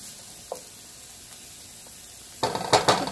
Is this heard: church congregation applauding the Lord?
no